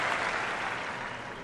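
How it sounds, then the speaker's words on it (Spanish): Crowd applause in the Top Spin 4 tennis video game, a steady wash of clapping held at an even level throughout, with no talk over it. "Pues se aplaude y ya está, ¿no?"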